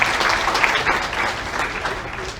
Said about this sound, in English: And I want to give a huge round of applause to all of our job seekers